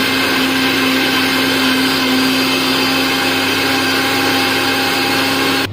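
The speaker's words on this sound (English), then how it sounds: "To grind now this our tomato to make puri." A kitchen blender grinds tomatoes for an Indian-style puri, a loud steady whirring motor drone with a constant pitch that runs unbroken to the end and then cuts off.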